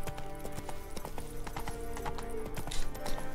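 Horse hooves clop in The Witcher 3 video game, a steady, close run of hoofbeats with a faint whinny mixed in.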